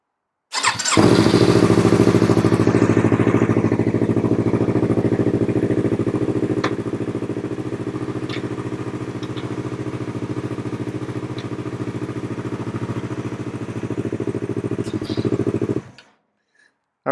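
A Yamaha R3 motorcycle engine cranks over and catches, then settles into a loud, steady running drone close by that holds for about fifteen seconds before cutting off abruptly.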